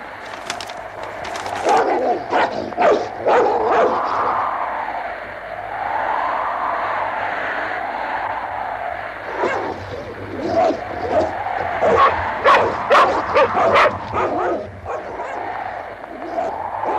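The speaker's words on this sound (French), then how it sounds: "Pourquoi les chiens aboient-ils si fort?" Several dogs bark loudly and repeatedly in bursts, close by, with a rumbling wind-like drone underneath and a voice speaking between barks.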